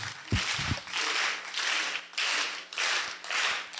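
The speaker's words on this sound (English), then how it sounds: "Then you got to slow clap me into this" A conference audience at a Disrupt HR talk claps slowly in unison, about seven loud, evenly spaced claps filling the room.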